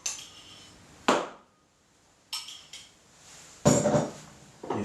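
Butter, sugar and egg being mixed for sweet pastry, heard as three separate bursts of clattering, scraping strokes with quiet pauses between them and no talking.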